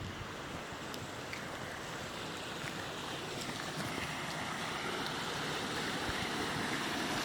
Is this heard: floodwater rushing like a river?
yes